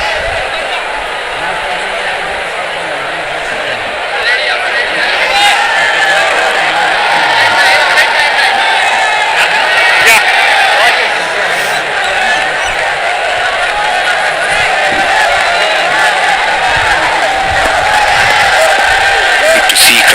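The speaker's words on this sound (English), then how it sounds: "Good to see crowds coming in." Spectators at a Bangladesh vs New Zealand cricket match make a broad, continuous stadium murmur, with scattered claps and shouts rising above it, heard throughout under commentators' talk.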